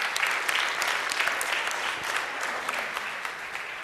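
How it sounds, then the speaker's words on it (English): A small audience claps together for a few seconds, a steady patter of many hands at moderate volume with no voices over it. "we can clap for that"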